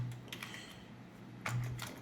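Soft keystrokes on a computer keyboard come in a few short, quiet bursts with pauses between them, close and alone.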